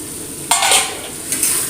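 Spoon scraping through a potato curry mixture in a hot pan, with two short bursts of stirring and a soft sizzle underneath, close and fairly quiet with no talking.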